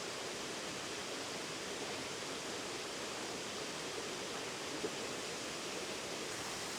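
A waterfall pours in a steady, even hiss of rushing water, moderately distant and unbroken, with no voices over it.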